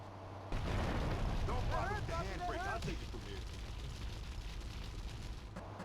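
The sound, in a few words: light post blown up and burning in video game GTA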